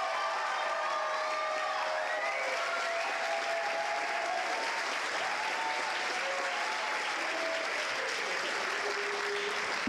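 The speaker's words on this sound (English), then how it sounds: "let's give our class presidents one more round of applause" A large audience at a summer Governor's School educator awards ceremony gives a sustained round of applause, a dense, steady wash of clapping with a few faint cheers and voices mixed in.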